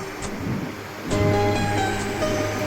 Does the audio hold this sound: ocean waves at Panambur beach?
yes